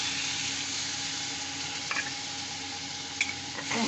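Water splashed into spices sizzling in a frying pan while cooking a fish curry with lentil fritters, a steady loud hiss with a few faint clinks and pops, no voices.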